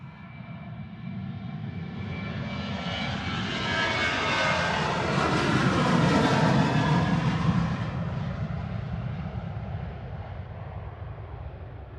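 An airliner takes off from Manchester Airport with a loud, continuous jet roar that builds as it passes overhead and then slowly recedes. Sweeping tonal bands rise and fall across the rumble.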